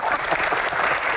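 An audience claps in a continuous dense burst at a Q&A event with stand-up comedy, loud and close for about a second, with no clear talk over it.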